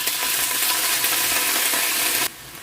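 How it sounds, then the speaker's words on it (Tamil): Onions sautéing in a pan with oil, giving a steady bright sizzle and crackle that runs evenly, then drops abruptly to a quieter hiss near the end. "இப்போ வெங்காயம் ஓரளவு வதங்கட்டும்"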